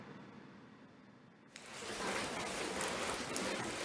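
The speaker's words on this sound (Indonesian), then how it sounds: "Hujan intensitas sedang masih mengguyur Kota Semarang Senin pagi." Moderate rain falls over Semarang city on a Monday morning, a steady broadband hiss that swells sharply partway through into a dense, continuous downpour with no voices.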